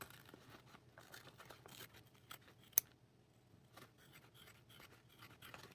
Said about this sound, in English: So just snip a little bit here, and then just go around and trim your seam allowance